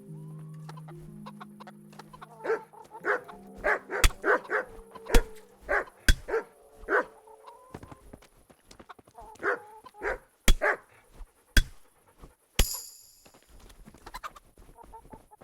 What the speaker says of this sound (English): he has to come back out because dogs are barking